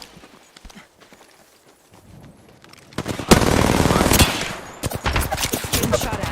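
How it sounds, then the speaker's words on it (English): Game gunfire rings out in a first-person shooter firefight: quiet at first, then from about three seconds a loud, dense burst of rapid shots and impacts carries on to the end, with no talk over it. "Getting shot at."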